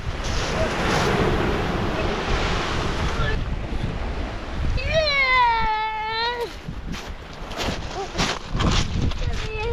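Ocean waves washing onto a beach, a broad rushing surf noise mixed with heavy wind buffeting on the microphone, with a voice and other talk breaking in partway.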